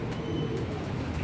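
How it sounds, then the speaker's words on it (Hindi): A pigeon or dove coos softly in a low, steady murmur against a dense outdoor background, with no talk during the brief stretch. "आप परिंदे की आवाज़ सुन रहे हैं, माशाल्लाह कितनी प्यारी उसकी आवाज़ है"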